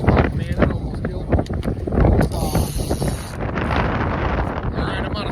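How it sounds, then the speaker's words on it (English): Wind gusts buffeting a microphone on a fishing boat during salmon trolling off St. Joseph, Michigan, a steady rumbling roar with louder gusts throughout, nearby. "The wind's starting to pick up a bit."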